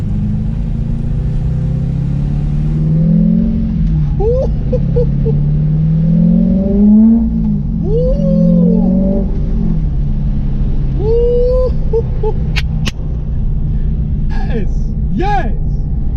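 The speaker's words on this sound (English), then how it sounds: "this is a 2003 Chevy Corvette C5Z" A 700-horsepower 2003 Chevy Corvette C5 Z06 rumbles steadily from inside the car while driving, its engine note rising and falling through several rev swells under ongoing talk.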